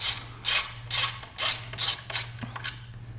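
Socket ratchet turning a bolt during a motorcycle oil change on a KTM-style FE 501s, about six bursts of rapid clicking in a steady rhythm, close and fairly quiet over a low background hum.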